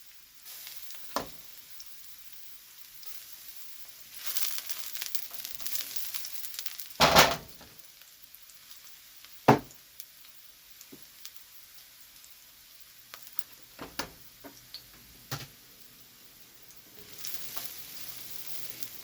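A clove of garlic fries in a pan with a soft, steady sizzle, broken by a few sharper clicks and pops. It plays alone, with no talk.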